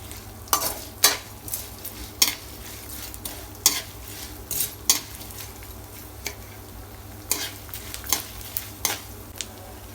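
Fox nuts and edible gum dry-roasting in a pan, stirred so a spoon repeatedly scrapes and clinks against the metal in irregular close bursts over a quiet background, no talking.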